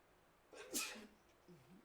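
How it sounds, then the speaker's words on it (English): A single sharp sneeze close by, a sudden hissing burst that fades quickly, followed by a brief soft vocal sound. "had a bit of a little sneeze here"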